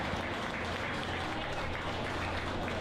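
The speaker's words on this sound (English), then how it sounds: "Give all the exhibitors a nice round of applause" Steady applause from the crowd at a county swine barrow show, with sustained clapping for the exhibitors holding level throughout at moderate distance, and no voices over it.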